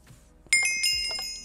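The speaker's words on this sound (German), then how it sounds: "Das hat irgendwie geklingelt." A bright bell-like chime rings once from a button press in the video game Diversity 2, a sharp onset followed by a sustained shimmering tone.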